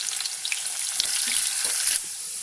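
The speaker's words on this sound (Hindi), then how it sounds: "उसमें हम ये प्याज डाल देंगे और प्याज को थोड़ा सा गोल्डन ब्राउन करेंगे" Sliced onions frying in about five or six tablespoons of hot oil in a kadhai, a loud, hissing, crackling sizzle heard up close, steady throughout and easing slightly near the end, with no talking.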